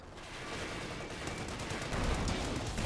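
Tank cannons trade fire in a Company of Heroes 2 battle, a Panzer IV against a Sherman loaded with armor-piercing rounds, heard as a dense, continuous wash of booming shots and rumble with no talk.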